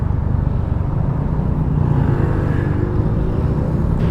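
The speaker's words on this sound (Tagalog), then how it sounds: "Traffic na." Dense road traffic in Metro Manila heard from a motorcycle ride to work, a steady loud engine drone and rumble of surrounding vehicles without pauses.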